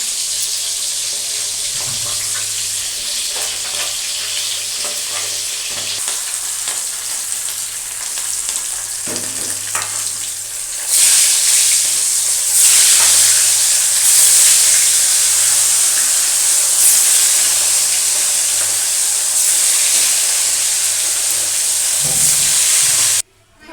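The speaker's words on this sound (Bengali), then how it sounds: "মাছগুলো সম্পূর্ণ ভেজে নেব" Pieces of hilsa fish fry in hot oil with a loud, continuous close sizzle that grows fuller and more intense partway through, with a few faint clinks in the background.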